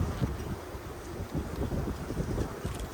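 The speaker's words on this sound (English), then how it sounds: "A little windy out." Steady outdoor wind rumbling and gusting, low and broad, with no talking.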